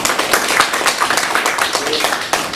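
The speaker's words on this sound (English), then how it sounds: "Can we give him a round of applause?" Audience clapping for a presentation: a modest crowd's scattered hand claps, sharp and distinct, rattling along unevenly at close range for a couple of seconds.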